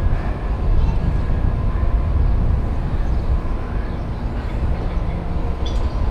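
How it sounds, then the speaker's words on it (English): Metro train at a Minneapolis train station near the Vikings stadium, a steady low rumble and rolling noise throughout with faint higher squeals near the end. "now here's the train station"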